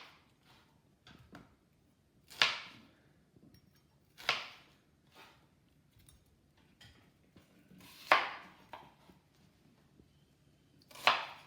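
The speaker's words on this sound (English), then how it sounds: "I've peeled the onions, and what we're going to do here is sort of cut them" A knife cuts peeled onions into wedges, making a few sharp, close cuts spaced a couple of seconds apart, with soft handling sounds between them and no talk.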